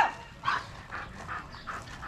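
An aggressive dog barks in a rural Philippine province, with a quick series of four or five sharp, rhythmic barks close by at moderate volume.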